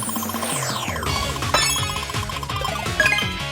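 Medal award jingle from Minna no Rhythm Tengoku, a bright synthetic fanfare with a descending sweep followed by bouncy, chiming notes and sparkly accents, playing alone without talk.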